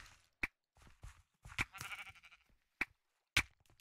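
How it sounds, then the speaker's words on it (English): Blocky sheep in Minecraft bleat four times in short, sharp calls spaced across a few seconds, close and moderately loud, with faint game noises in between. "I have two sheep."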